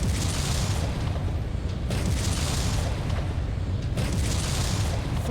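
Loud rumbling explosions during an airstrike in the MechWarrior 5 video game, a continuous roar of blasts with sharper bursts landing roughly every two seconds.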